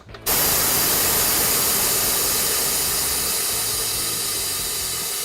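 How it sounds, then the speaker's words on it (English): A swing air jack on a Hunter scissor alignment lift releases air while lowering a vehicle, a sudden loud continuous hiss that starts abruptly and holds steady to the end. "And we'll pull those handles back towards us to lower the vehicle."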